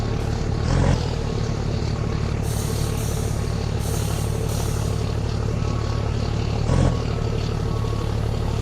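A propeller airplane roars steadily nearby among idling trucks, its engine drone continuous and loud, with a couple of brief louder swells.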